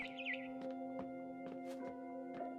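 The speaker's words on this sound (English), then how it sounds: "Then I heard chirping outside my window." A barn swallow chirps outside a window in the video game What Remains of Edith Finch, faint, quick twittering notes over a steady soft tonal background.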